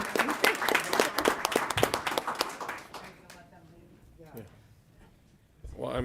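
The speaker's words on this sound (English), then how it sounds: "let's give our parents and teachers a round of applause" Audience at a school board meeting applauding: a burst of dense clapping for about three seconds that thins into scattered claps, with some voices afterward.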